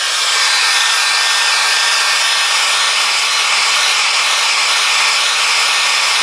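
A heat gun blows hot air to shrink a heat-shrink sleeve on KTM 1290 motorcycle wiring, giving a loud, steady, broadband whoosh with a faint constant hum, close and uninterrupted from start to finish.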